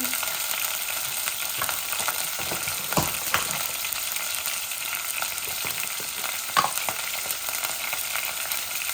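Onions frying in a pan for a rohu fish and tomato dish, with a steady close sizzle and scattered scraping stirs repeated across the stretch, no talking.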